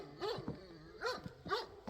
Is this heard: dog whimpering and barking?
yes